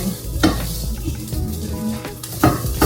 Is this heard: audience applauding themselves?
no